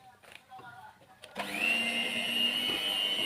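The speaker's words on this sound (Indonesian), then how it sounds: "Mixer kembali hingga kuning telur ini tercampur rata." An electric hand mixer beats Lebaran cookie dough with egg yolks, starting after a second of faint kitchen clatter, then running as a steady, loud, high motor whine that dips briefly near the end.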